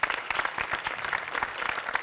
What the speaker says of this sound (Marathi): सचिन मोटे अभिजित पवार दोघांसाठी प्रचंड टाळ्या